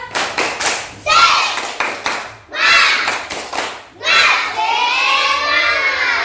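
Schoolchildren in a classroom perform the tepuk semangat clapping chant, bursts of sharp rhythmic hand claps alternating with loud group chanting voices, close and lively.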